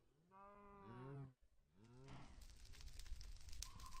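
Minecraft cows give two drawn-out, loud moos in quick succession, followed by muddled game noise and rustling.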